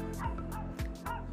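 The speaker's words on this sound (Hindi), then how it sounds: "वो देखो कितना बड़ा कुत्ता है" A large dog barks on a street in Osaka, Japan, with about four loud, deep woofs in a steady rhythm, fairly close.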